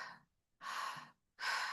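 Three short, shallow breaths taken through the mouth in a deliberate breathing exercise, each a soft airy rush of about half a second separated by brief silences, close and clear with no talking.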